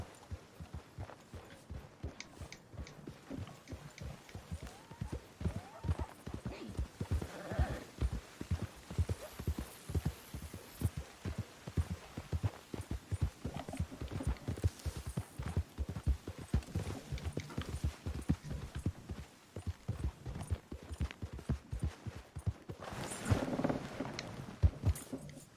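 Horse hooves clip-clopping steadily at a brisk gait in Red Dead Redemption 2, continuous close rhythmic hoofbeats running throughout with no talk.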